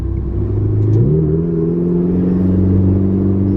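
A Ferrari's engine and exhaust rev through the streets of Monaco at low speed, giving a steady, loud droning note that rises in pitch about a second in and then holds a throaty, continuous tone with no talk.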